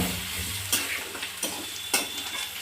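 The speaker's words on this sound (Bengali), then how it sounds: "পেঁয়াজটা একটু লাল লাল করে ভেজে নিলাম" Chopped onions sizzle in a hot pan, a constant frying hiss broken by three sharp scrapes of a spatula stirring them at a steady, unhurried pace.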